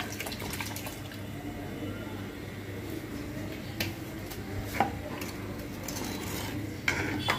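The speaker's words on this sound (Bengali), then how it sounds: "এই পুরো 1 বোতল ভিনেগার আমি এখানে দিয়ে দিব।" A whole bottle of vinegar is poured into a pot of homemade tomato ketchup, a steady wet splashing stream running close and even throughout, with a few light clinks of utensils and no voices.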